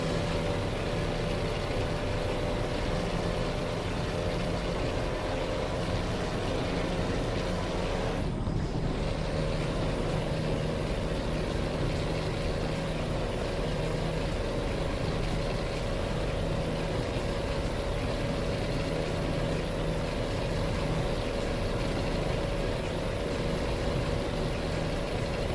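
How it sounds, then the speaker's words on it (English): Truck in American Truck Simulator with a low-powered engine hauling an SCS lowboy, labouring uphill with a steady, loud droning roar that holds constant throughout, with a brief shift midway. "I haven't got the most powerful engine on this, admittedly, so it does struggle on the hills"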